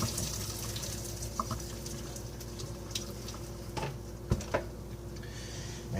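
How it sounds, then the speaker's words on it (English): Macaroni cooking water poured through a drainer into a kitchen sink, a soft steady splashing and trickling with a few faint clinks and knocks, fairly quiet throughout. "and then you drain it."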